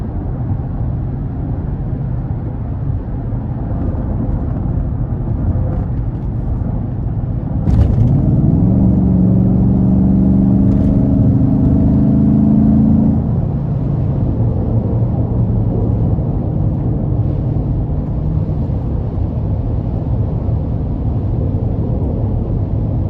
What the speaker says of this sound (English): we're gonna go ahead and give it some throttle. Just awesome acceleration.